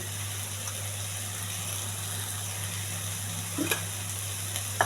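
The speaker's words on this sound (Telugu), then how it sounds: "పచ్చివాసన పోయేంత వరకు వేగించాలి" Boiled bitter gourd pieces stir-fried in a pan with chili powder and turmeric give a steady, moderate sizzle over a constant low electrical hum. A few louder scrapes and clicks come near the end.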